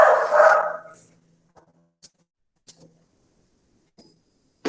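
A dog barks loudly and close at the start as the dog walker arrives, then scattered faint yips and small noises follow before another bark cuts in at the end.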